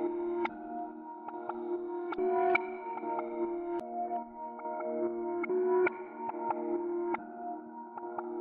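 A gated, reverb-soaked melody in a half-time trap beat plays alone as a series of soft plucked tones, each note starting crisply and ringing into a hazy tail at a slow, swinging pace.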